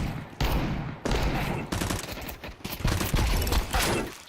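Video game gunfire crackles in rapid bursts and sustained volleys, loud and close, with brief pauses between strings of shots and no clear voices.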